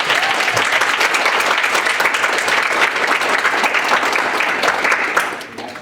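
A student senate meeting applauds its GCR team and SG advisors: loud, dense clapping from a room full of people, steady for about five seconds before thinning out quickly at the end.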